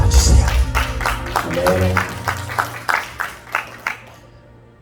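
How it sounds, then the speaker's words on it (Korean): A church congregation at a prayer-retreat revival service breaks into applause, dense clapping at first that thins into scattered claps and fades out, with a voice briefly speaking and musical tones underneath. "그분들 향해서 박수 한번 쳐주세요"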